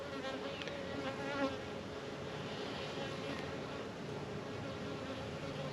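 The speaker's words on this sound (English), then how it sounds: "So there's quite a mite load in the hive" Honeybees buzzing inside an opened hive carrying a heavy mite load, a dense continuous hum close by with faint background sounds, no talk.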